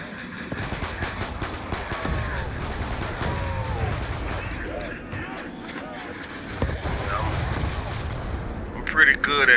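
Rapid gunfire bursts crackle in a zombies shooter video game, with repeated shots and small blasts running through game effects, while a voice talks over the action.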